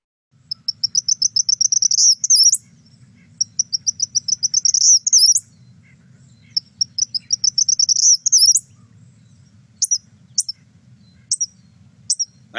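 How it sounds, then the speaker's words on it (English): An Eastern Kingbird's call plays back as repeated bursts of rapid, high, buzzy twittering chatter, each a couple of seconds long, then shorter isolated sharp notes, over a faint low hum. "And here's the Eastern Kingbird."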